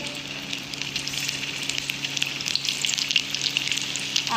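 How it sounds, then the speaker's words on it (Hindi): Egg chicken balls fry in a pan with a steady, close crackling sizzle and dense popping throughout. No one speaks. "ये देखिए, ये हम फ्राई करने के लिए रख रहे हैं,"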